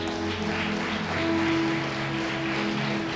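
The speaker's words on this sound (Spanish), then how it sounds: "Dale un aplauso al Señor." A church congregation applauds during a Spanish-language worship service, a steady, dense wash of clapping filling the room for the whole stretch, with sustained musical tones held underneath.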